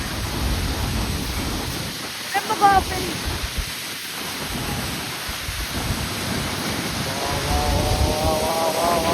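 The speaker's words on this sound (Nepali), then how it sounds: "संसारको सबसे ठुलो झरना" A heavy, steady roar of Niagara Falls fills the scene, broad and continuous, with faint voices now and then underneath.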